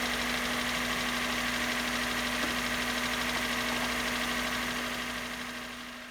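A rare hybrid project car with a five-speed manual runs after sitting many years, its engine giving a steady, slightly noisy hum with a persistent tonal drone, fading a little at the end.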